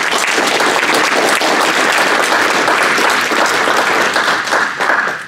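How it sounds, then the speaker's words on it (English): A convention audience applauds sponsors with dense, sustained clapping that fills the room evenly, loud and continuous before tapering slightly at the end. "So just give all of the sponsors a big round of applause."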